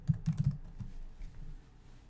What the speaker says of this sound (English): Under FTP host, you have to type in the FTP address of the site.